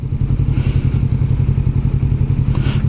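A 2021 Kawasaki Vulcan S motorcycle with balky, sticking gear changes, its engine thrumming loud and close in a steady pulsing idle, with a couple of faint mechanical clicks from the shifting.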